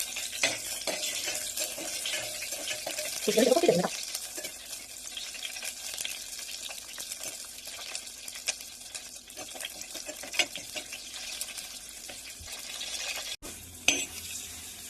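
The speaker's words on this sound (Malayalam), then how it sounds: "ഇതിലേക്ക് നമ്മൾ ആദ്യം തന്നെ നമ്മുടെ പഴുത്ത പച്ചമുളക് ഉണ്ടല്ലോ അതും ചേർത്ത് കൊടുക്കാം" Ripe green chillies fry in hot coconut oil for a Kerala brinjal chutney, a steady broadband sizzle running throughout with a brief louder stir or clatter near the start and a sharp knock near the end; no talking.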